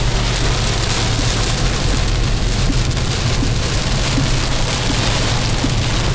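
Heavy, dense monsoon-like rain in India pours steadily on a car with a constant hiss and no pauses, loud and close.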